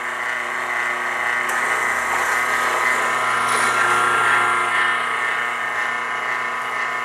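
A Romex stripping machine running a pass along 14-2 cable to strip the outer coating, giving a steady mechanical whir and hum with a slight rise midway, close and continuous with no talk.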